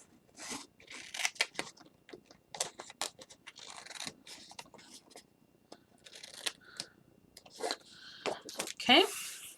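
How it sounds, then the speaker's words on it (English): Scissors trim paper at an angle in a series of short, crisp snips and rustles, close and fairly quiet, irregularly spaced, with some paper handling in between. "So I'm trimming this at an angle, this one, and then I'm going to trim this up."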